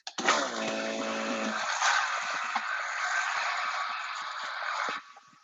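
A countertop blender runs steadily at high speed for about five seconds, whirring through ingredients for vegan albondigas, loud and close, then cuts off.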